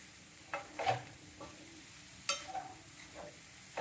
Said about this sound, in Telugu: ఇది లో ఫ్లేమ్లో పెట్టి అలా నెమ్మదిగా తిప్పుకుంటూ ఉండాలి బెల్లం కరిగేంత వరకు